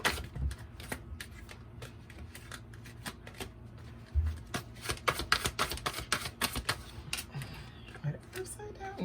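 Tarot cards are shuffled during a reading, giving quick papery riffles and soft slaps in irregular bursts at close range, with some background noise but no clear speech.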